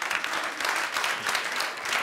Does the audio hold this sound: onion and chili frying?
no